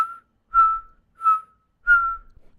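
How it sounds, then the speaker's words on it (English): A human voice in whistle register makes four clean, high, pure tones, each held briefly with short silences between, close and moderately loud with nothing else behind them. "It's literally a whistle through the back of your vocal cords"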